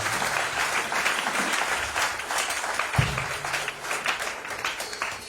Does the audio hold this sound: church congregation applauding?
yes